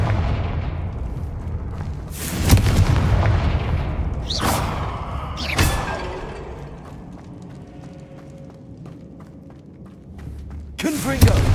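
In the Hogwarts Legacy video game, Confringo fire spell explosions go off as several loud, sharp blasts spaced a few seconds apart, each with a booming tail, over a low rumbling background.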